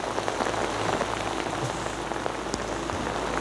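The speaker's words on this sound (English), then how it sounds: "I'll just quickly duck outside the rain." Heavy rain pours down onto the deck of a fishing boat in a dense, steady hiss of drops and splatters, loud and continuous throughout with no voices.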